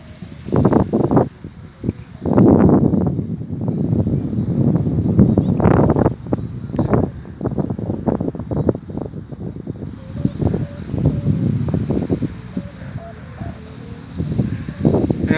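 Gusty wind buffets the microphone across an open kite-flying field in Thailand, rising and falling in loud, uneven bursts, with rustling and faint voices now and then.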